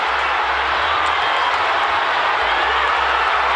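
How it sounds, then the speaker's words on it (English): Thousands of fans at the 2000 Gold Cup match between the USA and Haiti produce a dense, unbroken stadium roar that stays loud and steady throughout, with little speech standing out. "And you can hear the roar of this crowd."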